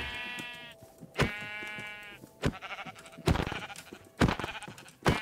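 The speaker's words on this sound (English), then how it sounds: "There are some sheep over there." Sheep in the Minecraft video game bleat five times in short wavering calls spaced about a second apart, clear and close, each standing alone over faint background sound.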